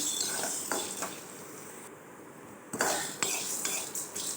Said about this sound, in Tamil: மல்லியும் வத்தலும் நல்லா வறுபட்டு வருது.